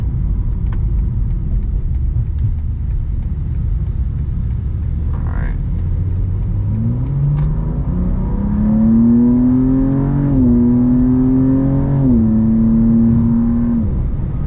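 A 2024 BMW M2 CS with a tuned transmission accelerates hard onto a freeway, engine note climbing steadily through the revs with a clear upshift dip near the end, heard from inside the cabin.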